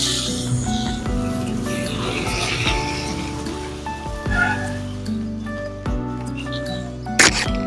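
Chopped onion dropped into hot oil already holding whole cumin and garam masala for a green-banana kofta curry, a loud, close, continuous sizzle with crackling and a few utensil knocks.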